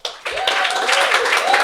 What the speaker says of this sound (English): Big round of applause. Keep that going.